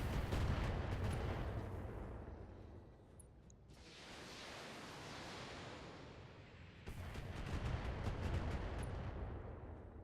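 Missiles fire in the BattleTech mech video game as dense rumbling bursts of rushing, explosive noise, with a heavy volley at the start, a softer whooshing stretch in the middle and another loud barrage near the end.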